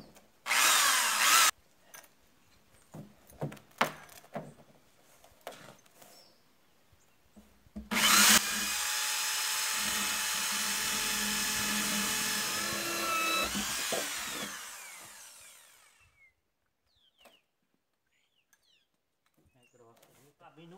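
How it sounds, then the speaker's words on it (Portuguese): A power drill whirs in a short burst, then runs in a long steady whine for several seconds while boring into a 200-litre plastic drum, with scattered handling knocks between. "Para isso eu vou estar usando a furadeira."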